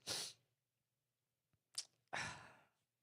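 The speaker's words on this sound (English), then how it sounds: "I just sneezed like 6 times" Several sharp sneezes from one person, some close and forceful, come in quick succession separated by short silences.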